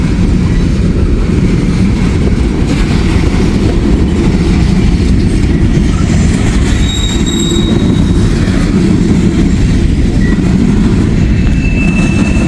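A long coke freight train rolls past on steel rails, a loud, steady close rumble of wagons with rhythmic wheel clatter and thin metallic squeals over the top, heard alone without voices.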